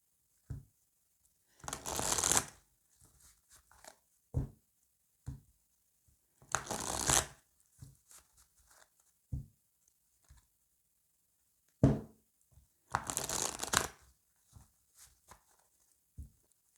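Lune de Jupiter oracle cards are shuffled by hand in three distinct riffling bursts, close and crisp, separated by soft taps and card handling.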